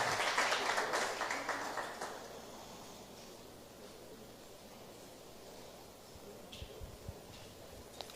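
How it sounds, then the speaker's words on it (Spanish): A meditation-themed group at a Bible spirituality week receives applause from an audience that starts loud for about two seconds, then fades into a long, quiet room tone with a few soft bumps near the end. "un aplauso para ese grupo"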